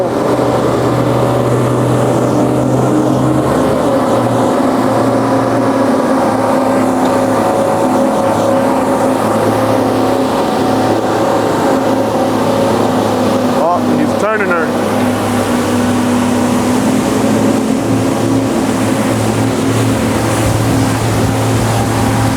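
A Regal 43 SAV motorboat on a sea trial near Ponce Inlet throttles up, its engine a loud, steady drone with rushing water and wind, and voices over it.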